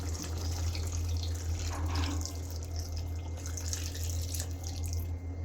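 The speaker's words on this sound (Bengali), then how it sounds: "এখন একটু ঝোল দিয়ে দিই," Water poured into a spicy beef curry to make the gravy, a steady close splashing stream with a low hum underneath, lasting the whole few seconds without talk.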